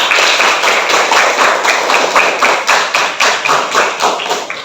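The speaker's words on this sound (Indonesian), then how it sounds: "Tepuk tangan untuk teman kita dulu." Students in a classroom clap for a classmate, a loud, close group of hands beating in a fairly regular, rhythmic pattern that runs throughout with no talk over it.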